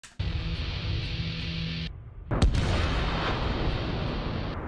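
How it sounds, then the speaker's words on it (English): An M109A6 Paladin self-propelled howitzer fires on enemy trenches, with a loud sustained rumble, a short drop and then a sharp blast followed by a rolling roar. "Artillery crews methodically pound enemy trenches"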